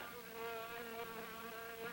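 A fly buzzes in a horror film trailer, a steady whining drone with a wavering pitch that holds close and loud for about two seconds, with no voices over it.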